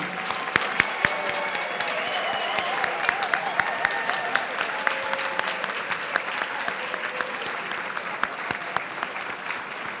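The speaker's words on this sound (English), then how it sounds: "Please join me in one more round of applause for all of our retiring employees." A round of applause from a banquet crowd honoring retiring employees, loud and steady with sharp nearby claps and some faint voices mixed in, lasting the whole clip.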